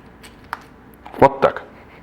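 Small parts clatter out of a hydraulic brake lever from the Guide R brake family as its contact-point adjuster knob is unscrewed. There are a few light, close clicks, with two louder rattles near the end.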